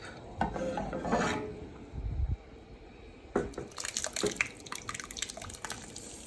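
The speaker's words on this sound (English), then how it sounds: "we're just gonna pour it on our soup" Thick roux is poured from a pan into a pot of Albanian northern bean soup with bacon and veal, making quiet scraping, dripping and liquid plops that come in soft, uneven bursts.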